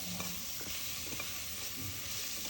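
Ginger garlic paste frying in a pan for chicken biryani, a steady soft sizzle with occasional stirring scrapes, close and alone.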